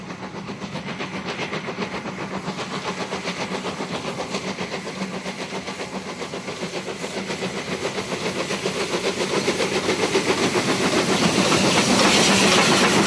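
A broad-gauge steam locomotive on an African line chuffs rhythmically with continuous hissing steam, loud and close, building steadily in volume as it works along.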